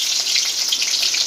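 Green chilies and bay leaves fry in hot oil for a chicken curry, giving a loud, close, continuous hiss and crackle with no voices.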